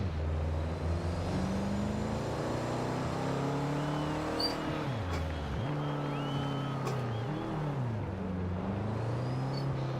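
A Subaru Impreza engine drives in the racing game Forza Horizon 2. The engine drones steadily for the full length and its pitch swings up and down as the car shifts and changes speed. It is heard alone, with no talk.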